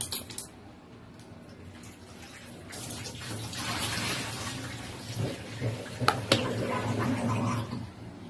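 Tap water runs while sliced eggplant is washed in a kitchen, a soft splashing that grows louder midway with a few clinks, close and fairly faint.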